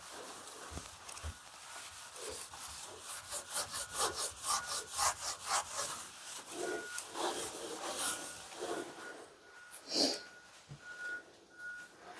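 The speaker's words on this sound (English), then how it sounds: "Just scrub down my tub." Close, rhythmic scrubbing strokes over a spotted, wetted bathtub, fairly quiet, a rapid back-and-forth rubbing that rises and falls, with no talking.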